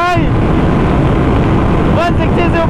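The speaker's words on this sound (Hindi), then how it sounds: "बहुत तेज हवा है भाई" Strong wind buffeting a rider during a motorcycle drag race between a 2024 BSA Goldstar 650 and a KTM Duke 390, a loud, steady roaring rush close to the microphone, with a voice talking over it.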